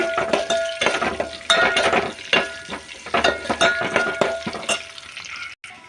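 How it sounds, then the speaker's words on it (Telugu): Cumin seeds, curry leaves and dried red chillies fry in hot oil for a tempering, a close, crackling sizzle broken by repeated stirring scrapes and light clinks of a utensil against the pan, with no talk. "ఇందులో కొంచెం జీలకర్ర, అలాగే కరివేపాకు, అలాగే ఎండుమిర్చి వేసుకొని తాలింపుని అయితే బాగా ఫ్రై చేసేసుకోవాలి."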